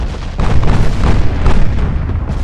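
Shells from 8-inch naval guns slam into a battleship in the Ultimate Admiral: Dreadnoughts naval combat game, a dense, loud rumble of booms and heavy impacts rolling continuously with no talk.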